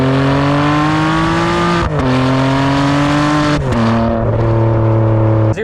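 A Ferrari 599 GTB's V12 engine revs loud and close, each long, steady high-pitched pull broken by quick drops between gears, with no voices over it.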